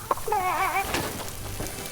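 A flying chicken in the Fortnite video game gives a short burst of warbling clucks lasting under a second, fairly close and clear, followed by faint scattered game noises.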